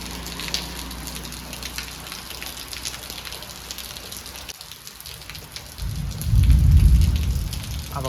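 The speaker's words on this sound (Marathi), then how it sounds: "गडगडूक लागला आहे म्हणजे पहिलो पाऊस आलेलो आहे" The first monsoon rain of the season pours steadily in Konkan, and near the end a deep, loud roll of thunder swells up over the downpour.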